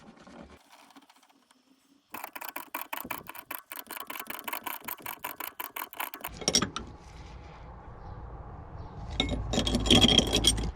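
A rear shock absorber bolt on a BMW E87 is tightened, heard first as a fast, even run of metallic ratchet clicks for several seconds, then duller scraping and clunking as the tool shifts. It is close and fairly loud, with no speech.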